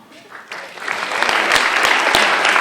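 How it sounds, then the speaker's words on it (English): An audience at a televised MLA election debate breaks into warm applause, the clapping building from scattered hands to a steady, dense wash of many people clapping, with faint talk underneath. "you can also offer them a warm round of applause as they do so"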